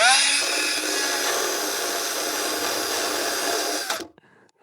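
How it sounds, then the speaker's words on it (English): A power tool sands the holes of a wooden pigeon feeder smooth, a steady loud whirring grind held for about four seconds before it cuts off. "I'm going to sand it out, get the bark out of there"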